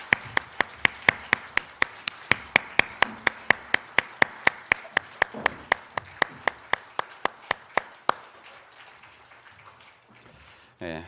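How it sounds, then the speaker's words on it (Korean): A Korean church congregation at a Sunday harvest-feast service claps in unison, around thirty sharp, evenly spaced beats in a brisk steady rhythm that stop abruptly, leaving a quieter room murmur. "영광의 박수 올려드리겠습니다."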